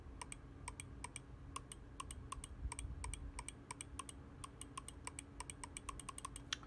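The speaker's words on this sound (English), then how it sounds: "let's try the mouse clicks for the first time" Crisp, regular clicks from a Logitech G Pro X Superlight 2 gaming mouse, pressed steadily around two or three times a second, close and alone over a low room hum.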